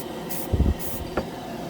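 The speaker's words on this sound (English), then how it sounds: "The nozzles are pretty good. I like the way it sprays. It has a nice atomization to it." Titans Hobby primer hisses from a spray can nozzle in two short bursts over a low background hum, close to the microphone and with no talking.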